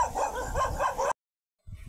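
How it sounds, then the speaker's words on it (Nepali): Dogs at a dog-keeping house bark close by in quick repeated yelps for about a second, then stop abruptly before faint sound returns. "कति धेरै कुकुर बगिरहेको रहेछ। कुकुर पाल्ने घर रहेछ।"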